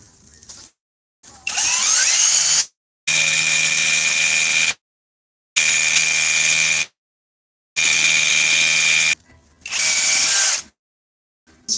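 An INGCO power drill fitted with a tungsten carbide tipped bit runs in five loud, close bursts of one to two seconds each, separated by short silent pauses, with a steady high whine in every burst.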